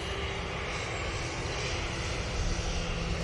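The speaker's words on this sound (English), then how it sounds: "this KLM City Hopper now, waiting to go off to Amsterdam Schiphol" A KLM Cityhopper airliner waits to depart at Manchester Airport, its engine giving off a steady, loud roar that stays broad and even for the whole stretch, with no talking.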